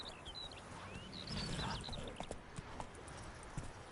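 Hooves of the horse Roach clip-clop in a PS4 video game, a light uneven trot of close hoof taps amid faint ambient birdsong, moderately quiet.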